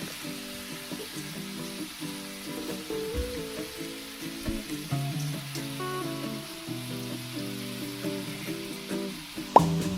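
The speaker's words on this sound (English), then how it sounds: "once the butter is melted, we're gonna add in our cubed apples" Cubed apples go into melted butter in a pan over medium-high heat and fry with a soft, crackling sizzle, broken by a few plops and light utensil taps, ending in one sharper clink.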